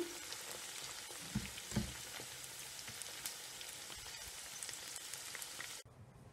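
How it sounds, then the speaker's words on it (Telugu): Gobi (cauliflower) pieces frying in hot oil for Gobi 65: a steady close sizzle with crackling pops and a couple of stirring knocks, no talk, cutting off near the end. "చూసారా ఎంత బాగా ఫ్రై అవుతున్నాయో కదా."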